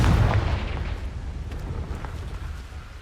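A blasting-curse explosion in the Hogwarts Legacy video game: a deep, loud boom up front that rumbles and slowly fades, with faint crackles trailing after.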